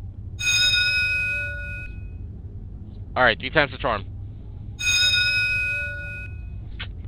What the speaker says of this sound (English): Got a school bell door.